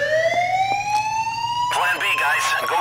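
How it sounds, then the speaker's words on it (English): A rising, wailing electronic alarm with strong harmonic tones sounds steadily in the heist game PAYDAY, with a few sharp beeps over it, and a voice breaks in over it toward the end. "That's the alarm."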